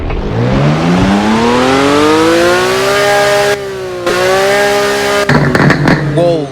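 A Porsche in the Driving Empire racing game revs up through a rising engine whine, drops briefly, then climbs again before crackling exhaust pops burst at the end; loud and close, with no talking.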